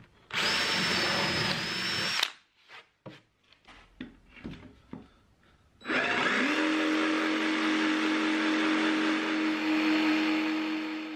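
A jigsaw cuts a slow circular curve through the plywood seat of a stool, loud and steady for two seconds, then a run of short scattered knocks, then the saw whining continuously again to the end.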